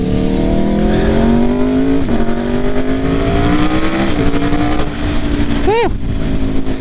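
A 2016 Aprilia RSV4 RF sport motorcycle engine revs hard while being ridden, its pitch climbing steadily through the gears with brief dips at shifts, loud and close over wind noise.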